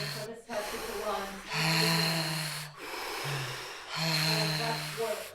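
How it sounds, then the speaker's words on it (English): Slow, deep breaths during a breathwork session, heard close and loud as long alternating inhales and exhales with brief pauses between them. "you can breathe in and out however you want"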